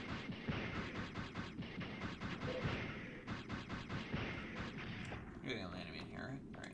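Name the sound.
explosion in the video game Hippopotamus 64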